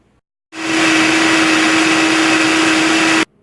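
A Vitamix blender runs at full speed blending tomato sauce, a loud steady whirring roar with a constant motor whine that starts abruptly, holds evenly for nearly three seconds, then cuts off.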